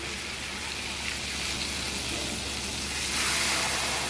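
Ghewar batter hits hot fat on a gas flame and sizzles in a loud, steady hiss that swells slightly near the end, with no voices over it.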